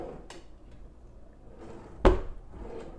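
A drawer fitted with a worn baby safety lock is pulled open, giving one sharp wooden clunk after some faint shuffling and handling noises, fairly close and otherwise quiet.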